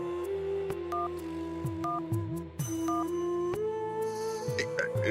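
A touch-tone telephone is dialed in a Bengali Nut Boltu cartoon: a few short, clear electronic beeps ring out over steady background music.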